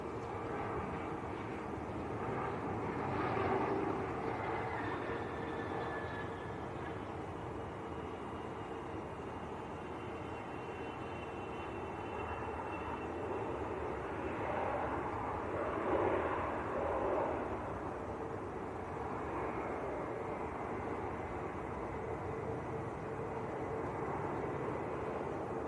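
A Qatar Airways airliner taxis out at Manchester Airport, a steady distant jet engine rumble and whine that swells slightly and stays fairly faint throughout, with no talk.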